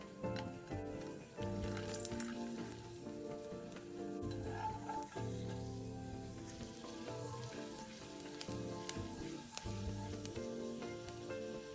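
A large slice of fresh ginger fries in two tablespoons of hot cooking oil over medium-low heat, giving a steady, even sizzle with small pops and crackles that runs unbroken for the whole stretch, with no one talking.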